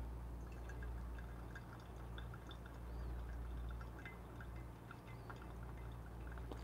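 Hot water from a Fellow Stagg EKG kettle pours steadily onto ground coffee in a brewer, a soft continuous trickle with faint drips in a quiet room.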